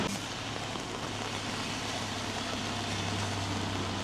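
Steady, dense rain pours down continuously in Osaka, Japan, a loud broadband hiss with a faint low hum underneath.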